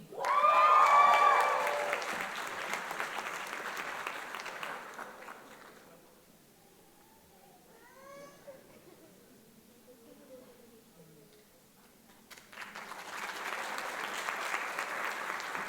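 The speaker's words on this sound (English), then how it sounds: "I encourage you to clap very loudly for every single one of our graduates" Graduation hooding ceremony audience for Duke engineering management graduates bursts into loud applause at the start, fades to a quiet stretch with a voice, then applause swells again near the end.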